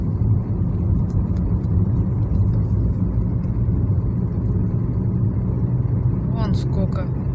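Town traffic with cars driving past: a continuous low engine rumble and road noise close by, steady throughout, with a few brief higher chirps near the end.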